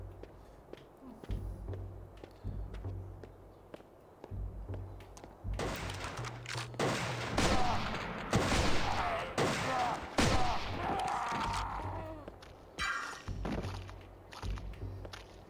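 Gunfire bursts in Turok Evolution, a run of loud cracks and thumps that builds from scattered shots into dense fusillades, with a low rumbling bed throughout.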